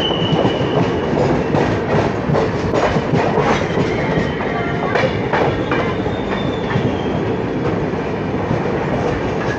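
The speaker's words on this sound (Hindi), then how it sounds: "सामने से कोई ट्रेन है, कोयम्बटूर चेन्नई सेंट्रल।" A Coimbatore–Chennai Central train passes close by on the rails near Perambur, heard from a moving train: a dense, loud rumble with steady clickety-clack wheel beats and a faint high wheel squeal, alone without voices.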